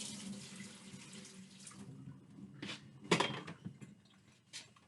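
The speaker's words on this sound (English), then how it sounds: "you just want to swirl that water around to make sure that any that's left that hasn't been evaporated yet, it's just going to go out with the water" Water runs from a tap while wine bottles are rinsed, starting as a soft, steady flow and then turning into a few sharper splashes and glassy knocks as the bottles are swirled and emptied, with no talking.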